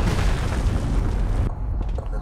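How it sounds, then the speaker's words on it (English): A precision airstrike in Call of Duty: Modern Warfare lands as a dense, sustained roar of explosive rumble, heavy low booms rolling continuously before the blast noise cuts off abruptly and a lower rumble lingers. "Friendly precision airstrike on the way."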